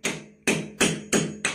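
Five sharp metallic taps of a hammer striking a flat screwdriver while removing a toilet, evenly spaced and close, each ringing briefly before the next.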